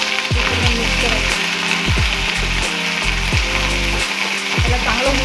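Ground garlic and onion masala sizzles loudly in hot oil for a saar, with repeated scraping strokes of a spoon stirring it through a continuous frying hiss.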